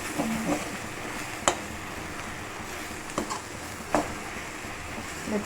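Gongura pachadi with tamarind being stirred in a pan, soft scraping strokes with a few sharper clicks of the spoon against the pan, quiet and close, with no talking.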